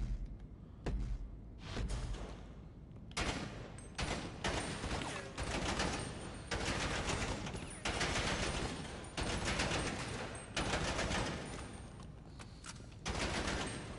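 A submachine gun fires at an indoor bunker shooting range in GTA Online, loud sustained automatic bursts separated by brief pauses, repeating throughout with dense, harsh cracks.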